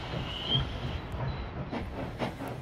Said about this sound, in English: Durango and Silverton Narrow Gauge K28 locomotives, numbers 473, 476, and 478, were part of 10 built for the Denver and Rio Grande Western Railroad